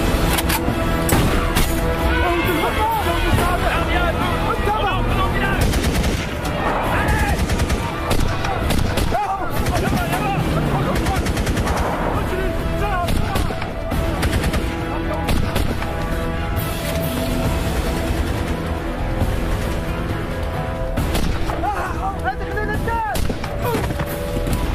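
Film gunfire after an order to shoot: dense bursts of rifle and automatic fire, loud and sustained, with shouting voices mixed in.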